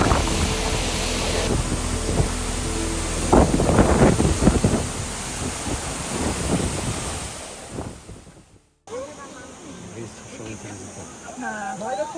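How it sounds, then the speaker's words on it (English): A constant roaring rush of falling water at Ouzoud Falls, Morocco, dominates, loud and close, with some voices and a brief cut before a quieter stretch with talking. "Under the waterfall."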